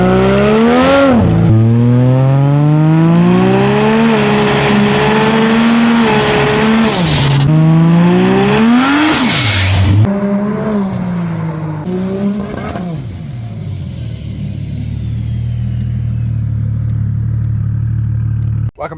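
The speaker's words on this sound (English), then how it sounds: "Today we've got Paddy's ED Falcon Classic with a Barra Turbo" A Ford ED Falcon Classic fitted with a Barra Turbo engine revs hard again and again, loud and close, the pitch sweeping up and falling back, then settling into a steady, lower drone.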